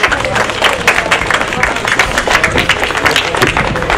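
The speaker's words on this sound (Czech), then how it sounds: "potlesk." Applause from an audience at a Přehazovaná (newcomb volleyball) tournament event in Rychnov nad Kněžnou, with dense steady clapping and crowd noise held at a loud, even level throughout.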